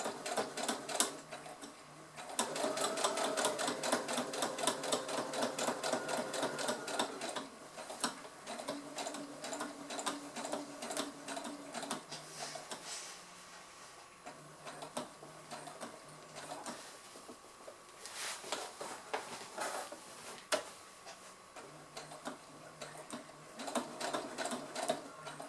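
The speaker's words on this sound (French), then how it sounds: "Donc on va doucement pour faire cette surpiqûre parce qu'elle va se voir à la fin" A sewing machine runs steadily and slowly, stitching a straight topstitch along fabric on a baby sleep sack, its rapid mechanical ticking continuing through the whole stretch with brief slowdowns and restarts.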